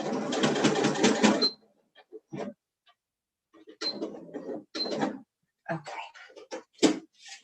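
A sewing machine stitches a table runner in short bursts: a dense, close run of rapid needle clatter, then several brief stop-start stitches separated by pauses.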